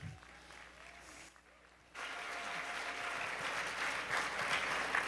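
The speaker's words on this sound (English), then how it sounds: "Give a big round of applause." Applause from a gala audience: quieter clapping at first, a brief dip, then louder, sustained clapping that continues to the end.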